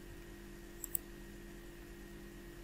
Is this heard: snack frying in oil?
no